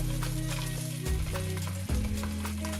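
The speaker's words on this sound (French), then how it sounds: "venir marquer chaque facette de nos chorizo" Continuous loud sizzling and crackling of chorizo searing in hot olive oil, with steady background hum and occasional clatters from stirring.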